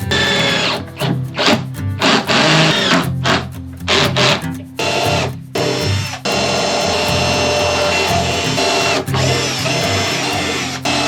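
Power drill drilling holes and driving screws into a wooden slatted bed base for a camping box in a Volkswagen Caddy, loud whirring bursts starting and stopping, then a long continuous run.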